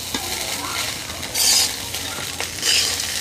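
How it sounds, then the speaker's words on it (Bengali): Flattened rice pulao ingredients are stirred and fried over low heat, with a steady close sizzle and two louder bursts of spatula scraping against the pan. "লো জালে ভালো করে এই সব উপকরণগুলো মিক্স করে ফ্রাই করতে হবে 2 মিনিট ধরে।"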